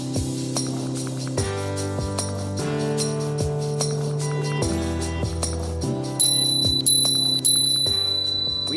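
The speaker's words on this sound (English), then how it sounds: "We set out to bring a new level of engineering and craftsmanship to the bicycle bell." A finely engineered bicycle bell rings repeatedly, clear sustained metallic tones shifting pitch across several strikes, each ring decaying slowly into the next, close and alone.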